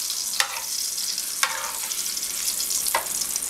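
Fajita meat frying in a pan, a steady bright sizzle throughout with three short sharper bursts of spattering or stirring, close and alone without talk.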